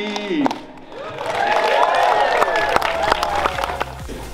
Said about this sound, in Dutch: klapt u allemaal maar mee